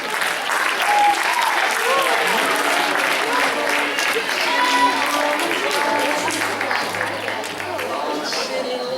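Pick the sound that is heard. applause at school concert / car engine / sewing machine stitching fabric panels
applause at school concert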